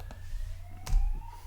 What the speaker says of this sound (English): sirens in the background, but where I live now is very, very near to a major arterial road